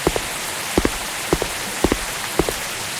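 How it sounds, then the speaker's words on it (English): Video game rain from the Unity Standard Assets water asset falling steadily as a soft hiss, with scattered louder droplet taps every half second or so. "It's raining."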